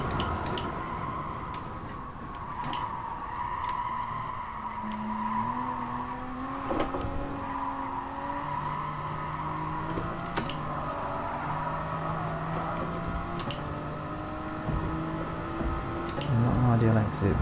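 A race car in Gran Turismo Sport brakes and accelerates, the engine note climbing and dropping through gear changes at a steady moderate level, with faint tire noise and tonal buzzing throughout.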